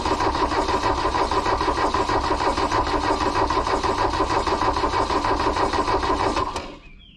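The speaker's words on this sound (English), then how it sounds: "I got the jumper cables hooked up to my truck here. Let's give this a second shot." A diesel VW Rabbit pickup truck, long abandoned, cranked with jumper cables attached, giving a steady rapid mechanical churning for about six and a half seconds without catching, close and loud, then stopping abruptly.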